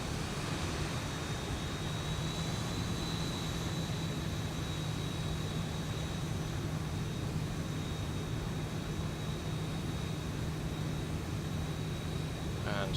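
A model airplane engine drones steadily with a tiny bit of throttle added, a constant thin whine over broad airy noise lasting throughout without pause.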